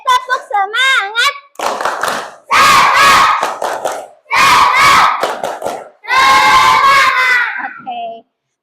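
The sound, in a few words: schoolchildren doing the 'tepuk semangat' clapping cheer again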